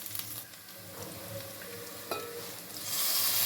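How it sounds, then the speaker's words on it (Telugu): Boiled cauliflower goes into a pan of frying spice paste, giving a soft, low sizzle with a single clank of utensil on pan and a louder hiss swelling at the end. "పేస్ట్ మంచిగా ఫ్రై అయిందండి ఇప్పుడు ఉడికించుకున్న క్యాలీఫ్లవర్ వేసుకుందాం"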